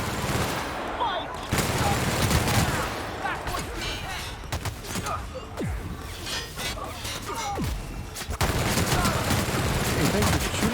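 Battle gunfire from The Outer Worlds rattles in dense bursts of rapid shots and sharp cracks, loud and close, with short gaps between volleys.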